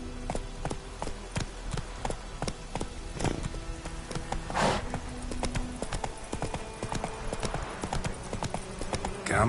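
Horse hooves clip-clop at a steady gallop in The Witcher video game, a continuous rhythmic patter of hoofbeats with a brief whinny-like burst midway and a faint voice in the background.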